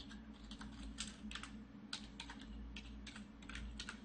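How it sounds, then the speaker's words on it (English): Text typed on a computer keyboard in a photo editing program: soft, evenly paced key taps over a low steady background hum, with no voices. "I'm going to go to the text and just click in here and type in Merry Christmas."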